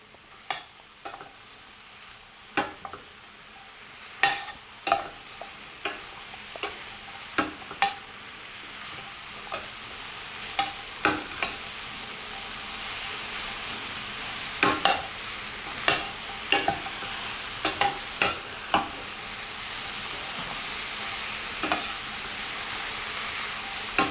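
Vegetables, garden eggplant among them, cook in a pan with a soft background sizzle broken by repeated sharp clicks and scrapes of stirring, spaced irregularly throughout.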